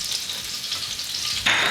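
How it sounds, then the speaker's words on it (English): Hamakua mushrooms stir-frying in hot oil in a pan, a loud close sizzle that swells into a brighter burst of crackle at the very end. "put it into a hot pan, let it heat up for a little bit, and then we're gonna stir fry our vegetables"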